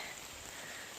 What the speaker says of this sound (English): The rain feels pretty good actually, and it's not thundering